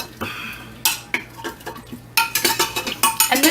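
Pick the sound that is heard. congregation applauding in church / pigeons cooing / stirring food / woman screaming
stirring food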